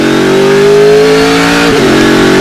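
Race car engine from the Speedcar Series at the Dubai Autodrome, loud and close, revs at a high, steady pitch, then drops sharply and briefly roughens with a gear change before settling again; no voices.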